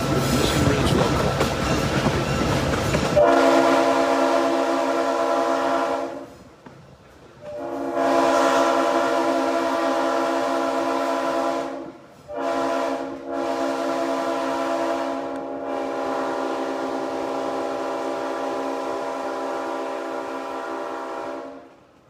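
A train of the Mission Ridge local near Chattanooga sounds its whistle loudly in long, sustained blasts. The blasts are broken by short gaps and a few quick toots over the rumble of the running train.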